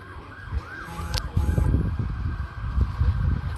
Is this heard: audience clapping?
no